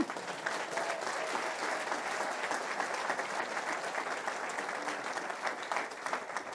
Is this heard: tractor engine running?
no